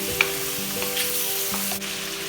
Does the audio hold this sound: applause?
no